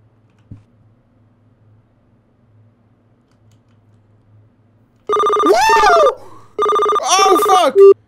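In the horror game I'm on Observation Duty, a telephone rings in two loud, shrill, warbling bursts near the end, following a long hushed stretch with only a low hum and one faint thump.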